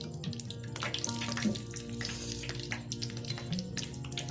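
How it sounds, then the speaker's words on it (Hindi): Potato chips fry in hot oil for McDonald's-style french fries, giving a steady, fairly faint bubbling sizzle with small crackles throughout. "चिप्स हमारी फ्राई हो रही है"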